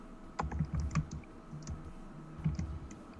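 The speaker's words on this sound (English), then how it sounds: "It seems like he's typing a lot." Keyboard typing picked up over a remote call: scattered soft key clicks in short irregular bursts, fairly faint against a low background hum, with no one talking.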